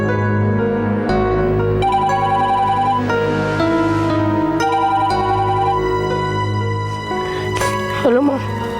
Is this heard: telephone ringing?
yes